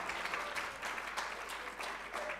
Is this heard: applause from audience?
yes